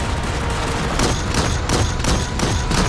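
Rapid bursts of gunfire in Starship Troopers: Extermination crackle in quick repeated volleys, loud and close, with a steady noisy bed underneath.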